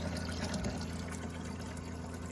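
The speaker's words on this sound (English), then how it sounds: "The magic of running cold water." Cold water running from a tap in a homestead: a faint, steady trickling flow with a low hum beneath, continuous and unbroken, no voices.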